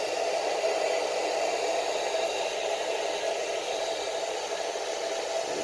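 A heat gun blows hot air over a red overlay on a 2018-2019 Honda Accord taillight, producing a steady, even whooshing hiss that runs unbroken and close with no voices.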